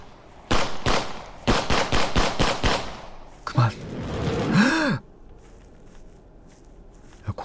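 Rapid bursts of gunfire crack in quick succession, loud and close, followed by a deep rising dinosaur roar and a breathy vocal sound, in the horror video game Tempus Triad.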